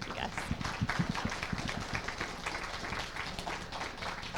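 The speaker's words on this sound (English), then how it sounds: "How about a round of applause?" A seated audience applauds at the close of a community health talk on home-based medical care, giving several seconds of steady, dense clapping that fills the room without any speech.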